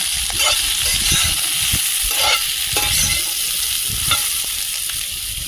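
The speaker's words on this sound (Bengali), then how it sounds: "বেগুন আর পটল দিয়ে আরও একটু ভেজে নেব" Eggplant and pointed gourd fry in hot oil with garlic and green chillies in a village kitchen, giving a loud, continuous close sizzle broken by regular scraping stirs.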